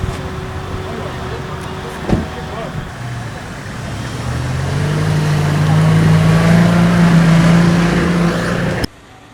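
A car engine runs at a road checkpoint, first idling low, then swelling into a louder, rising drone as the vehicle manoeuvres before cutting off abruptly near the end; voices talk faintly in the background.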